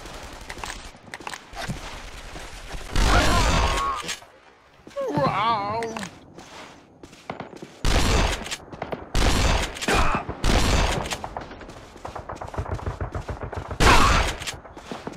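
A shotgun in a World War II shooter blasts repeatedly, loud close booms in irregular bursts with footsteps between them, while someone talks over parts of the action.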